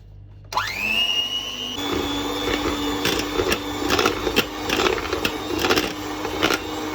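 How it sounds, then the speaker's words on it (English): An electric hand mixer whirs steadily as it beats butter until fluffy, starting abruptly and running loud and close with its whine shifting pitch as the beaters knock against the bowl. "First I'm going to beat the butter till it turns little fluffy"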